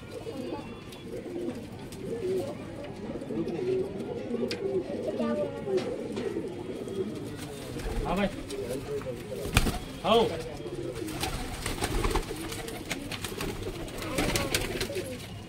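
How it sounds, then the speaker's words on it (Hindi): Shahjahanpuri pigeons coo in low, throaty, repeated calls at a pigeon market in Amravati, mixed with flapping and background bustle, and people talk nearby. "शाहजहापुरी कबूतर है दोस्तों"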